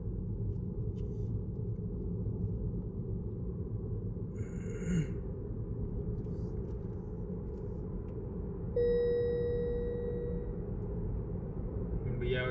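Low, steady road rumble from a car driving down a mountain road after leaving a national park, a continuous cabin drone with a few faint rustles and brief bursts of noise, and a tone joining late in the clip.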